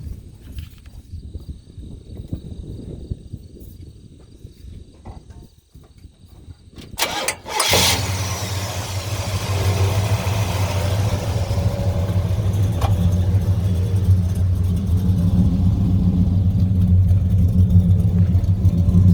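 A 1971 Chevrolet Chevelle SS's ZZ454 V8 crate engine cranks briefly, catches with a loud roar, then settles into a deep, steady, rumbling idle that continues to the end.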